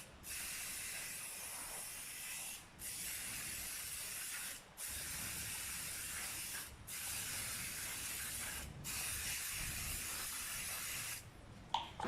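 Cooking spray hisses from an aerosol can outdoors to grease baking tins for banana bread, in several long steady bursts separated by brief pauses, with a final short burst near the end and no talk.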